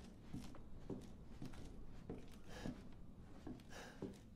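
Faint, evenly spaced footsteps in Resident Evil 7, treading slowly at about two steps per second against a quiet, murky background.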